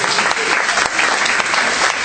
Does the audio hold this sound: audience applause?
yes